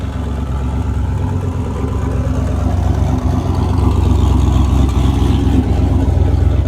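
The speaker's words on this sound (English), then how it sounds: "I hear a Mustang." A Ford Mustang engine rumbles steadily nearby, a loud, continuous low drone with mild revving swells over nearly seven seconds, heard from outside a dent shop.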